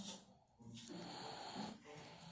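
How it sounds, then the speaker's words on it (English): A person snoring close by, with rough breathy snorts and wheezy inhales running almost continuously over two seconds, fairly loud with a brief dip near the start. "you're snoring."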